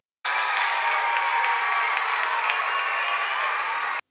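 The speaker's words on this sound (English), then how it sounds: "Give her a round of applause." Audience applause after a guest is introduced on a talk show, a dense, steady wash of clapping and crowd noise that starts abruptly and holds at even loudness for about four seconds.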